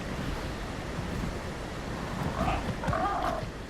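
A waterfall in a video game, with a hidden build tucked behind it, gives a steady, broad rushing roar of falling water that swells a little toward the end.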